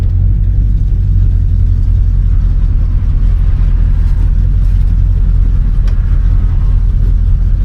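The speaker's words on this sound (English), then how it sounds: "Motor feels pretty good." A 1967 Chevelle's engine rumbles steadily while the car drives, heard loud and close from inside with a deep, continuous low drone and road noise and no voices.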